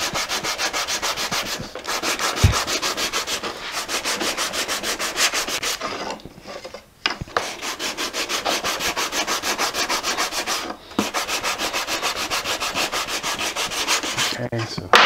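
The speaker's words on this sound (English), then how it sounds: "it doesn't need a lot of sanding" Sandpaper rubs back and forth along the edges of a wooden rectangle stacker by hand in quick, even strokes, close and clear, with brief pauses between passes and no talk.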